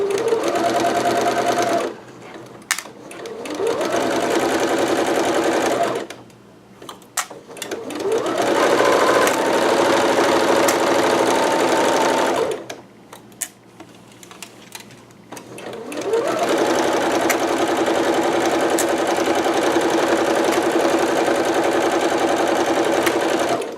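A sewing machine stitches a very large piece of dress fabric in three long, steady runs separated by brief pauses, loud and close with no talking.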